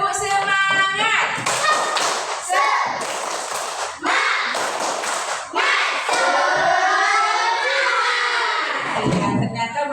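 A classroom group claps a rhythmic patterned routine together, mixed with children's voices chanting and shouting over the beats.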